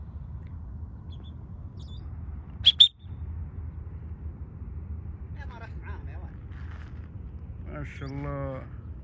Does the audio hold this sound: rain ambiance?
no